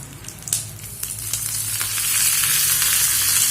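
Curry leaves tempered in hot oil for a chutney crackle and hiss, the sizzle swelling steadily louder and brighter over a few seconds, with a few sharp spatters and light stirring ticks near the start.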